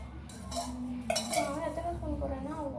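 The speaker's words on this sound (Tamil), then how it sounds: "சுகர் வந்து கொஞ்சம் ஆட் பண்ணிக்கணும்." Sugar spooned into a bowl in a home kitchen, a metal spoon clinking sharply against the dish a few times, close and bright, with a voice speaking over it.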